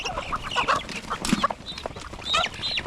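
Free-range broiler chickens on a poultry farm cluck and squawk close by, overlapping calls in an irregular busy chorus with no speech.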